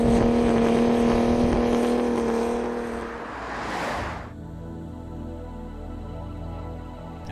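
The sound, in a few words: cars launching in an airstrip drag race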